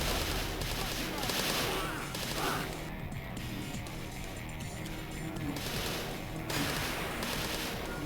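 Rapid automatic gunfire in GoldenEye 007 on the Nintendo DS rattles densely through a narrow hallway, loud and continuous for several seconds, with game effects mixed in.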